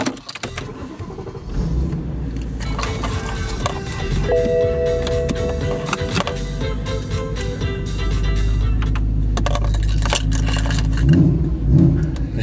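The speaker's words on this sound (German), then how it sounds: "Oh, immer wieder schön, so eine V8" A supercharged G-Power BMW M3 V8 roars steadily on a dyno, its loud engine building in revs with rising tonal whine and holding a sustained high-load drone, alone without talk.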